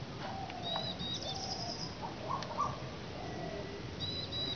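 Birds call outdoors while bird watching in Bhopal, the likely Asian koel among them, with scattered short high chirps and whistled notes over a steady hum of ambient background noise.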